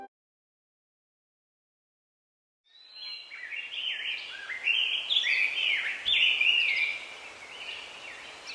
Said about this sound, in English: Birds are singing, flowers are blooming.